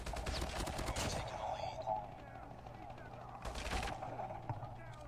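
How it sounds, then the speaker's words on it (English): Rapid bursts of automatic gunfire in the Call of Duty Mobile shooter game, a dense volley at the start and another short burst later, with a game-style mix under ongoing background noise. "Whoa, who's shooting at me?"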